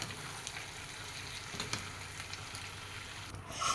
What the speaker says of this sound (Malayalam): രണ്ട് ടേബിൾ സ്പൂൺ ഓയിൽ ഒഴിച്ച് കൊടുത്തിട്ടുണ്ട് ലേശം പട്ട ഗ്രാമ്പൂ ഏലക്ക